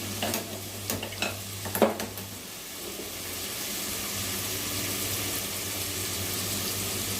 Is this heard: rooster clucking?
no